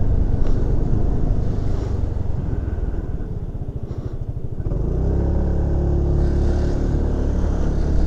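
Steady engine drone and road rumble of traffic heard from a narrow Honda Forza 300cc scooter, with a loud motor note throughout and vehicles passing close by.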